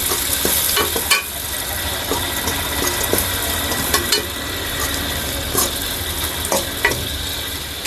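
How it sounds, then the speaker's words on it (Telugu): Cabbage, carrot and capsicum being lightly stir-fried in a pan for street-style chicken noodles: a steady close sizzle broken by scattered clinks and scrapes of the stirring spoon. "తర్వాత క్యారెట్, ఇవన్నీ కొంచెం వేగించుకోవాలి లైట్గా"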